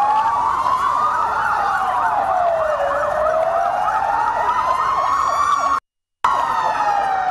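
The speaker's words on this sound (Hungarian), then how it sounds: "Már egy perce szól a sziréna ennél a Marosvásárhelyi irodaháznál" A loud wailing siren sounds outside an office building during a fire drill, its pitch sweeping up and down in a steady cycle, close and continuous, with a brief dropout near the end.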